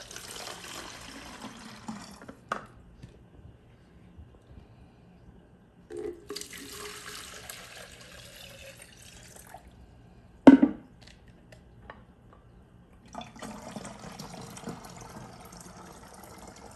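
Water runs from a tap while preparing a Knudson C stock solution for media, flowing in several separate bursts with quiet gaps between them, plus one sharp knock partway through.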